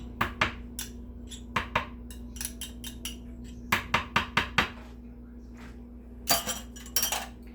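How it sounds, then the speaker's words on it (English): A spoon clinks against a bowl while mayonnaise is stirred into a chicken patty mixture, giving scattered sharp taps in small clusters with quiet gaps between them. "We're going to mix this up so that it's all mixed up nice together"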